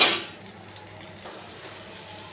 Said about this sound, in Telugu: నూనె వేసి పచ్చిమిరపకాయలండి ఈ పచ్చిమిరపకాయలు కూడా కొంచెం మగ్గనియాలి